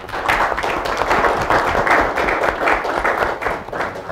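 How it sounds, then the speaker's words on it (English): An audience applauds speakers at the close of a community development investment workshop session: steady, dense clapping from a full room, sustained and fairly loud throughout. "let's put our hand together again, and applause for our speakers"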